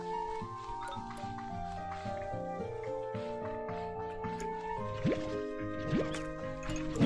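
A resource node in Slime Rancher 2 makes soft bubbling, dripping and gurgling noises over layered tonal game music, with a couple of rising chirps near the end.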